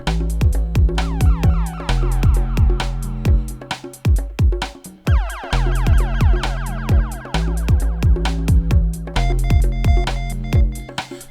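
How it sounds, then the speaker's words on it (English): Dub siren samples play in a rhythmic loop on a 1010music Bento sampler, with rising and sweeping wails over punchy repeating beats that recur bar after bar. "Got some dub siren samples on this track."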